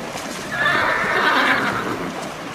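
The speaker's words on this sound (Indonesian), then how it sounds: "Wow, kuda." A toy horse gives a loud electronic neigh, a single rising and falling whinny lasting about two seconds over a low background hiss, with no voices.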